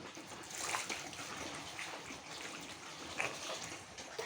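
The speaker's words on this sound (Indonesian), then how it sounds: "Disiram." Water poured over a body during ritual washing of the dead, a soft, steady splashing and trickling stream, fairly faint, with small spatters and no one talking.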